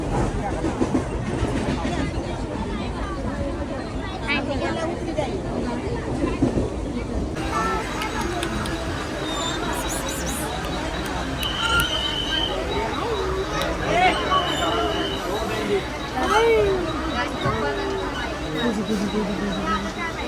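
Inside a moving local train between Nalasopara and Thane: a constant rumble with rattling and clicking from the carriage, while passengers talk and chatter nearby throughout.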